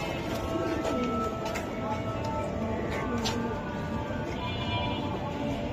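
Giribaz pigeons cooing at a wholesale pigeon market, soft repeated coos and rustling among many birds under a busy bustle of people talking nearby.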